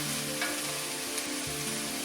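Small pieces of cured pork fry and crisp in a pan for corn chowder, a dense continuous close sizzle with faint pops and no voices.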